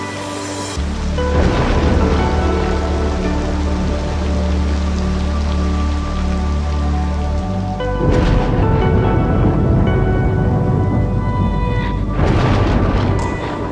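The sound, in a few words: thunder from a lightning strike in Cities: Skylines II video game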